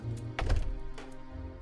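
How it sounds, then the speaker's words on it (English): A door thunks shut in the point-and-click adventure game Deponia, one short dull impact amid a low game hum and scattered ambient sounds. "문 닫았다."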